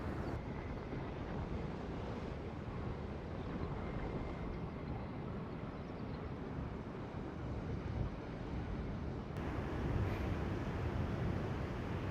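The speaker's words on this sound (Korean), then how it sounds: "저기 파도 치는 거 보세요." Sea waves breaking along the shore near Fukushima, heard as a continuous broad roar of surf mixed with heavy wind buffeting the microphone, steady and without speech.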